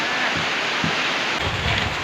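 Heavy rain pours down outdoors around a rural home garden, a loud continuous wash with some low rumbling gusts, no voices.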